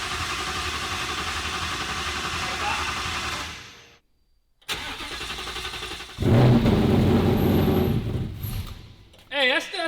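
A Ford Coyote V8 swapped into a 1950s Ford truck cranks, falls silent briefly, then fires and settles into a loud, steady idle with a rev near the end, with people talking over it.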